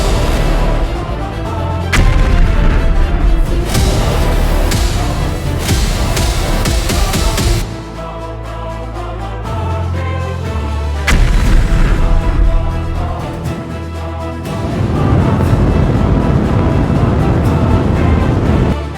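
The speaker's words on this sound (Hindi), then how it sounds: "तीरों की वर्षा, अस्त्रों का प्रहार, आकाश में अग्नि विस्फोट।" Cinematic mythological battle soundscape of arrow volleys, weapon strikes and fiery explosions, loud booming bursts and rumbling impacts layered with swelling music, sustained throughout with brief dips between waves.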